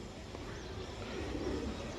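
Pigeons kept in pairs for sale give soft, low cooing, faint and steady over a quiet background hum, with no talk.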